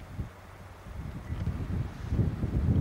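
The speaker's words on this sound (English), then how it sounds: "Real cold wind blowing up here today." Cold wind blowing across the summit of the Columbia Icefield in Alberta, a steady low rushing gust buffeting the microphone that builds louder toward the end, with no voices.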